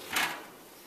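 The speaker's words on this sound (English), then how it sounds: "And we just shut the door so we don't get a draft." An oven door swung shut on a preheated oven holding challah dough set to rise, giving one soft, brief thud near the start and then quiet room tone.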